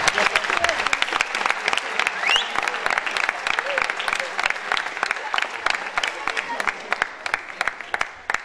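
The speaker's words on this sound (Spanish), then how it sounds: "le pedimos un fuerte aplauso para" An audience claps at a local football league celebration, a sustained burst of dense, sharp hand claps that stays fairly loud, with voices mixed in beneath it.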